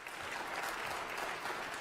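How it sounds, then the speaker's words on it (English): A church audience claps for the cast of a vacation Bible school evening program, steady sustained applause filling the room with no voices on top. "Can we have a round of applause for our cast here tonight?"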